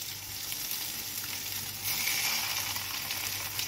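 Rolled sole fish fillets frying in a pan over high heat, giving a steady close sizzle that grows louder partway through, with no talk.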